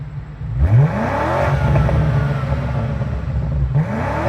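A 2026 BMW M5 Touring fires up after a struggling crank, its engine catching with a sharp rising rev, settling into a loud idle, then blipping upward again near the end.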